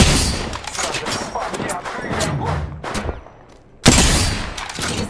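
Rapid bursts of close gunfire from a Warzone video game match, dense and continuous, with a short lull before another loud volley; a voice speaks over the shooting.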